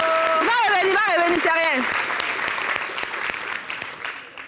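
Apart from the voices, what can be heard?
audience applause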